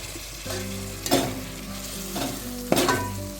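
Golden-brown onions with added tomatoes frying in a pan, a steady loud sizzle with a few scraping stirs that punctuate it at intervals, with no talking.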